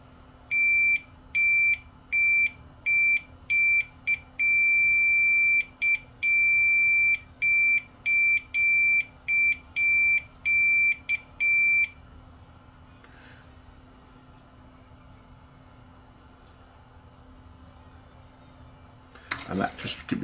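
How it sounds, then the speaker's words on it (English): A multimeter runs a continuity test on the cable pins of a Marantz CD player, giving a series of sharp, high electronic beeps of uneven length and spacing, close by. The beeping stops, leaving quiet background hum. "Let's see if we get continuity all the way through."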